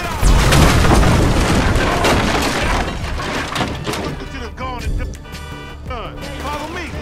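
A gas can blowing up in GTA 5 during a shootout, a loud booming blast at the start that rolls into rumbling debris and gunfire, followed by characters talking over the fading noise.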